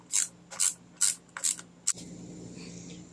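Ratchet snugging a carburetor nut on a Honda GCV160 engine: five quick bursts of close, crisp clicking, each a short run of pawl ticks, followed by a low mechanical hum and faint rustle.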